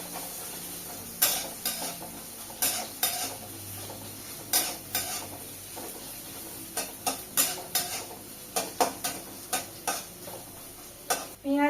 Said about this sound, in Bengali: পেঁয়াজ ভেজে নেব।